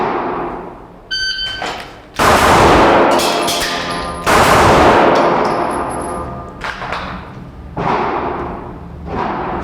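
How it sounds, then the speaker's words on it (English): Pistol shots ring out in a shoot two, reload, shoot two drill at a range, loud sharp reports in quick pairs separated by short pauses for reloading, with faint electronic timer beeps. "I'm just gonna shoot 2 reload 2 until I'm out of ammunition"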